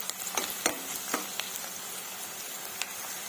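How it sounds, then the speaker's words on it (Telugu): Onions fry in oil over a high flame for chole masala curry, a soft steady sizzle broken by a few sharp clicks and taps from stirring. "ఆనియన్స్ ఇలా ఫ్రై చేసుకుందామండి. ఒక 2 మినిట్స్ ఫ్రై చేసుకుంటే సరిపోతుందండి ఆయిల్లో"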